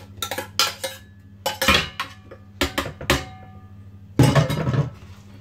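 Apples are spooned into cake dough in a bowl, giving a series of close, loud clinks and scrapes of spoon against bowl in uneven bursts, with short pauses between them.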